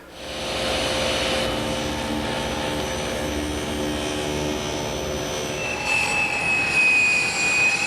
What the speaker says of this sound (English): my table saw. It's a tool that I couldn't do without here in the shop.